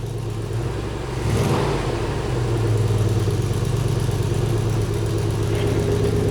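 A Toyota Celica GT-S, parked, cranks for about a second before its engine catches. It then settles into a steady, close idle hum that continues to the end.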